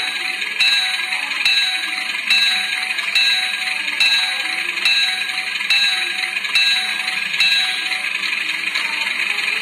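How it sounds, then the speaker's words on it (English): Bell sound from an HO scale model Indian Railways WDM2 locomotive: a bright, metallic electronic ding repeating at a steady rhythm, close and fairly loud over a constant high hiss. "And now it is time for the bell."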